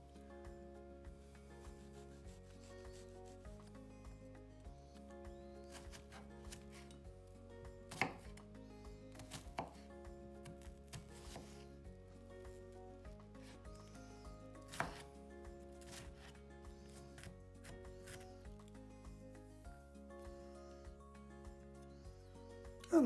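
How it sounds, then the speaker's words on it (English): A knife slices finely through a peeled shallot on a board with soft, rapid, repeated chopping taps that run steadily and close under quiet background hum. "You take the skin off the shallot and start slicing that"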